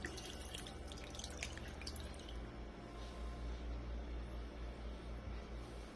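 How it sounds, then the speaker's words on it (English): Chili sauce pours in a steady, wet stream over a pot roast in a slow cooker for Mexican pot roast, a close, continuous liquid splatter and trickle with no talking. "all the chilies that we put on, we're going to put that on top. I'll pour it right on top."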